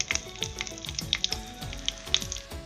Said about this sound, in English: 1/4 teaspoon of cumin seeds, 2 red chilies, a few curry leaves. I'm lastly going to add some asafoetida powder here.